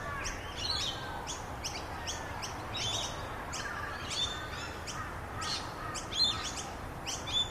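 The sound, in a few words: exotic birds chirping in a bird sanctuary aviary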